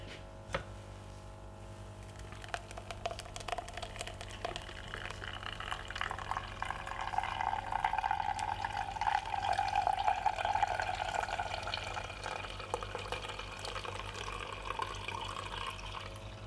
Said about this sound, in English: Now we're just gonna run it through our strainer.